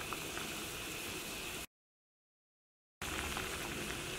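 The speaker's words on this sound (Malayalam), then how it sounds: "ഇതാ നന്നായിട്ട് തിളച്ചിട്ടുണ്ട്" Fish curry bubbling in a pot on the stove in a Kerala kitchen, a steady broadband boiling hiss that breaks off in a gap of silence partway through and then resumes.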